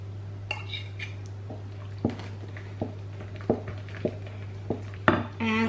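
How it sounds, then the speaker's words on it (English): Spoon stirring coffee into a cupcake mixture in a bowl, a series of separate soft clinks and scrapes at irregular intervals, close and fairly quiet, ending in a brief louder scrape. "So now I'm going to put the coffee in and stir it all up."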